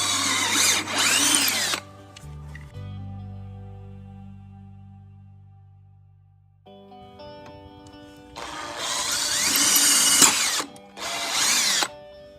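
A drill spinning a bit to clear glue from a brass pen tube, in short high-pitched whirring bursts with a slower spin-down and quieter pause between them, close and fairly loud.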